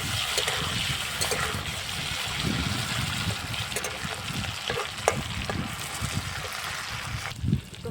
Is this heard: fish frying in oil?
yes